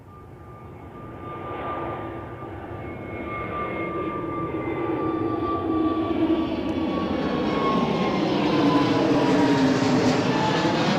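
An airplane engine roars during a takeoff at Newcastle Airport. The loud, steady roar builds gradually and has a faint whine running through it, with no voices over it.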